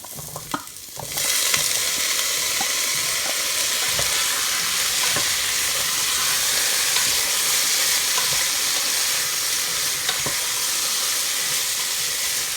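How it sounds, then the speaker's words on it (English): Carrots and potatoes fry in a pan for a vegan corn chowder, giving a steady, close sizzle and hiss throughout with a few scraping stirs, no voices. "I'm going to add the carrots and the potatoes and let them fry a little bit"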